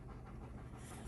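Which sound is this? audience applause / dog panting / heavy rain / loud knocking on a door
dog panting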